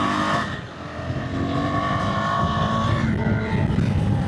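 A motorcycle engine idles loud and close in a steady, even drone that continues throughout, with no talking over it.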